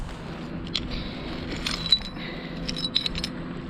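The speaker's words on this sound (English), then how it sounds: "That's quite thick old glass, that one is." Thick old glass shard handled on a beach, giving a few small, scattered clinks and taps over a quiet, faint outdoor background.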